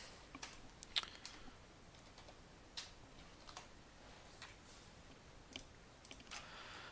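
Quiet clicks of typing on a computer keyboard, a handful of irregular light taps spread over several seconds, faint and close.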